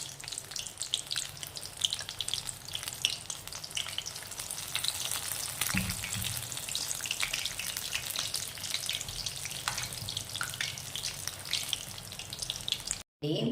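Eggplant bajji fritters sizzle steadily in hot oil, a dense continuous frying crackle that stays close and loud throughout with a brief stir or splash midway, no voices over it.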